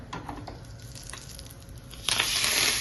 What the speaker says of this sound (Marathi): या डाळीवर आपण ओतलेली फोडणी.